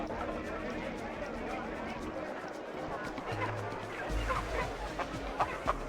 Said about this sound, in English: A couple of hens as well,